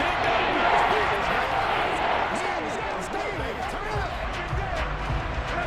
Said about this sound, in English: That just means this crowd's going to get even louder